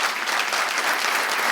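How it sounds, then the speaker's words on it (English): Audience applause at a talk, a dense, steady wash of clapping from a room full of people, loud and sustained for the short moment with no pauses. "I'm getting applause from you."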